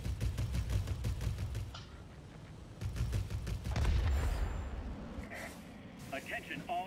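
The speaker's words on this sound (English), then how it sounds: "30 millimeter cannons can definitely take on some air targets." Rapid bursts of 30 mm aircraft cannon fire from a German Messerschmitt in World of Warplanes rattle in quick rhythmic volleys, fairly faint, with a pause midway before another burst and some mechanical clanks.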